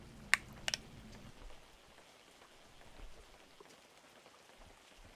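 Rain falling in the Webfishing video game, a soft steady patter of drops spread evenly across the clip, with a couple of sharp clicks near the start.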